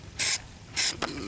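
Two short bursts of aerosol spray paint hiss onto car trim molding, then a brief third puff, close and loud with quiet gaps between.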